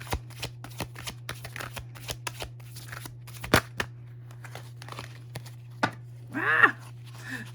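Tarot cards are shuffled and drawn by hand, giving a run of soft riffling flicks and card snaps at an uneven pace, close by, over a low steady background hum.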